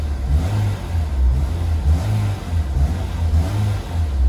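A used Honda S2000 AP1 Type V's engine runs and revs, a loud, close, steady mid-range drone with several rises in pitch and no talk over it.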